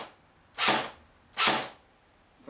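An airsoft electric rifle with a metal gearbox fires on semi-auto, two sharp separate snapping shots about a second apart and the start of a third, close and clear with no talk.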